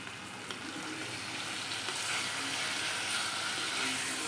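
Ivy gourd (kovakka) steadily sizzling and frying in a covered pan, a continuous close hiss with faint crackles and no talk.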